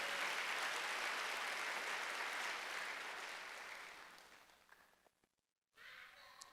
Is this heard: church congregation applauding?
yes